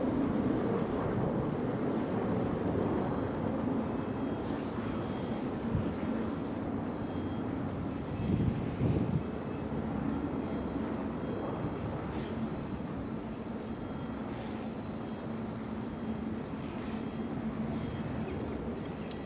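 Jet airliner taking off at Schiphol airport in Amsterdam, a steady broad engine roar held at constant level throughout, moderately distant with no voices over it.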